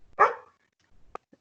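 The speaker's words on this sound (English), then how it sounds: "That's my dog, Tiki." A pet dog named Tiki lets out a single sharp bark close by, followed by a couple of faint, small yips in an otherwise quiet indoor room.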